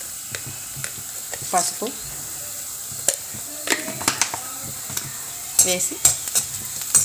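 Onions and green chillies frying in a pan for an Andhra-style okra fry, a low sizzle under sharp spatula scrapes and clinks against the pan, with a brief spoken phrase in between.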